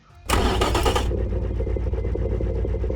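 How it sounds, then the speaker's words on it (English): A 7-liter V8 engine, a Chevrolet LS7 replica with titanium connecting rods, forged crankshaft and hypercast pistons, cranks briefly in the Automation game, then fires up into a loud, steady, rumbling idle. "this is a 7-liter V8 engine and it's only 200 kilograms"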